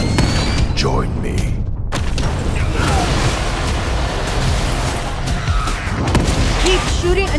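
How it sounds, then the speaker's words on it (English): Gunfire in The Evil Within 2 game trailer: dense, loud bursts and heavy booms blend into a continuous roaring wall of sound lasting several seconds. "Keep shooting until they're dead or we run out of ammo."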